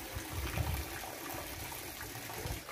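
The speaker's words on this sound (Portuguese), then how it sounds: "Eu vou tirar a água pra dar uma trocada nessa água." Water is drained from a small backyard fish tank that has turned green, making a steady low gush and trickle that runs continuously with no talk.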